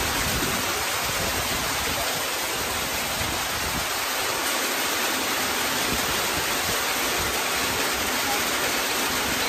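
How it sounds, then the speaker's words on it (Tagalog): During a storm, heavy rain and wind make a loud, constant broadband roar that stays even and unbroken for about ten seconds, with no voices. "Lakas ng ulan at hangin."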